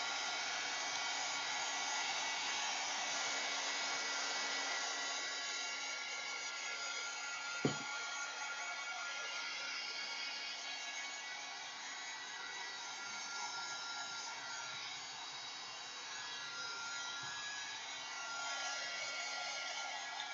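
A hair dryer blows steadily and loudly for the whole stretch while drying paper ephemera for a junk journal, a constant close whoosh with one brief knock partway through and no talking.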